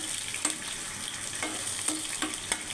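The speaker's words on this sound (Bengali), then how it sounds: "প্রথমে আমি পেঁয়াজ আর কাঁচামরিচগুলো ভেজে নিব তেলে" Onions and green chillies frying in oil, a soft steady sizzle close by with occasional stirring clicks, fairly quiet and with no talk.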